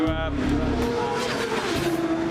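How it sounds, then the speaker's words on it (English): A freshly rebuilt racing motorcycle engine drones loudly on track with the throttle eased back, its harmonic whine steady and slightly falling; a rider's voice can be heard speaking over it. "Just moved my throttle down a little bit there."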